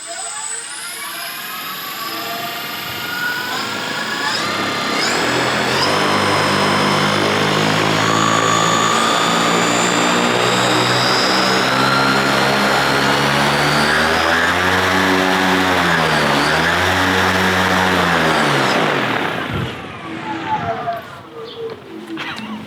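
An electric paramotor propeller spins up into a loud, sustained whirring drone with rising and shifting pitch, running close by for most of the stretch before tapering off near the end.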